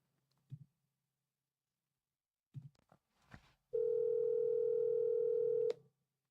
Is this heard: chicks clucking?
no